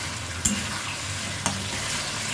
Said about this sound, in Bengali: আমি ভালোভাবে মশলাটা কষিয়ে নেব।